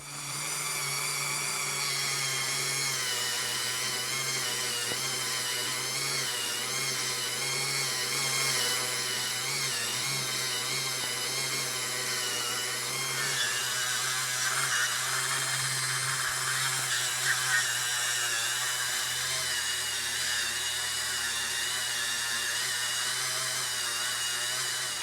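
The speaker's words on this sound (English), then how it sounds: "I'm using my Dremel around the edges here to make sure I don't scuff up the wood." A Dremel rotary tool works around the edges of a 1940s Craftsman lathe chisel during restoration. It holds a steady high-pitched whine for about 25 seconds, with slight shifts in pitch and load as it moves along the steel.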